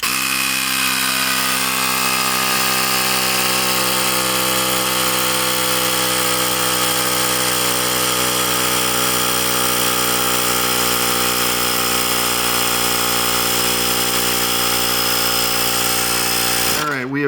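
Steady, loud electric hum of an air compressor inflating an Air Equalizer hitch, running unbroken at close range for the whole stretch and cutting off abruptly at the end.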